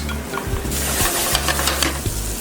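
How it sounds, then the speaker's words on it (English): Rice toasts in olive oil in a pan, a continuous close sizzle broken by repeated scraping stirs of a utensil against the pan bottom. "we're going to toast our rice first with a little bit of olive oil"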